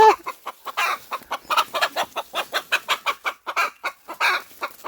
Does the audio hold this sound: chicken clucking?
yes